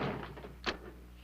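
A door is shut and locked, heard as a single soft, close thump with a short click partway through, set against quiet room tone.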